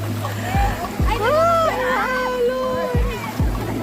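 People jump into rough sea water at a beach in Pangasinan, making sharp splashes in two pairs amid surf, while people shout and talk excitedly.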